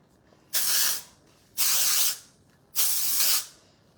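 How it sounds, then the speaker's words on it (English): Three short, even bursts of aerosol spray hiss close by, each lasting about half a second with brief pauses between. "So what I do is I take the hair and I lift it up and I spray underneath."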